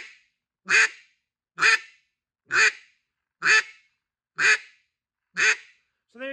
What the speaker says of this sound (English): That's a simple Quack.